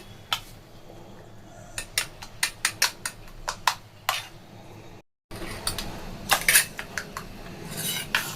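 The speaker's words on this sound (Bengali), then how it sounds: "খুব ভালো করে আবার ফেটিয়ে নিতে হবে।" Utensil clinking steadily against a bowl while egg batter mixed with gram flour is whisked, rapid scraping taps in uneven bursts, close up, with a brief gap before the beating resumes.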